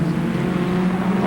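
Formula Ford race cars at Phillip Island circuit, a steady droning engine note held loud and constant throughout, with no pauses or voices.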